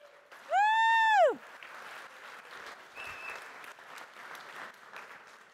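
Keynote attendees at a developer conference demo applaud a live button push, a loose, fairly faint patter of clapping that carries on after a brief loud rising-and-falling tone near the start.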